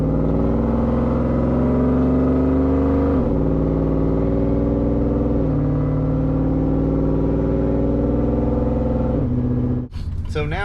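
Ford Lightning truck with a loud aftermarket exhaust and snappy transmission, a steady deep engine drone with rising harmonic revving that shifts pitch a few times, loud and close, with a person talking over it.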